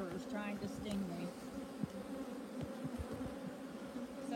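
Bees swarm around an open hive during an inspection, a steady close buzzing hum that fills the whole stretch, with sharper insect passes and faint rustling throughout.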